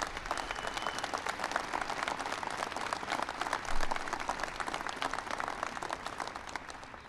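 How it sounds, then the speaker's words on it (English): A large audience applauding Officer Richard Donahue at a White House ceremony, sustained clapping from many hands that swells briefly midway and then carries on steadily, with no speech over it. "Give him a big round of applause."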